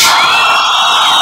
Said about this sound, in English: Some whistles from the crowd as they think Real Madrid just lazing away in the midfield